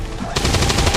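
A rapid burst of soldier gunfire from XCOM 2 kicks in after a brief quiet moment, loud and close, with shots repeating quickly until the end.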